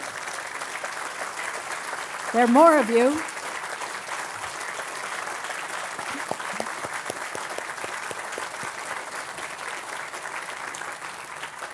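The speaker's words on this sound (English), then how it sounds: "please give them a round of applause because they deserve it" Audience applause for staff in a tent at a PSNC annual meeting: steady, dense clapping fills the whole stretch, with a brief spoken remark near the start.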